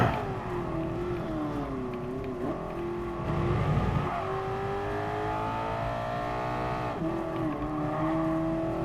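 A Mazda RX-7 from the first series, heard as a rotary engine in the Gran Turismo Sport racing game, holds a steady drone with rising and falling revs and shifts, alone and continuous throughout.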